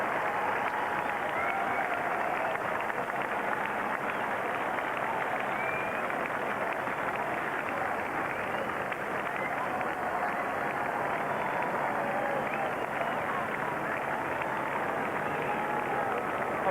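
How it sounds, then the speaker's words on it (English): A grandstand crowd at Epsom Downs applauds the 1997 Derby winner Benny the Dip, a dense, steady wash of clapping and cheering that holds at an even level throughout. "Applause echoing all round the grandstand, all round Epsom Downs"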